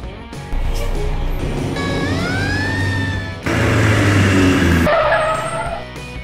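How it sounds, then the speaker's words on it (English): A compact car engine roars loudly, with tires screeching and a rising whine over it, then the engine surges harder before easing off. "Compact car."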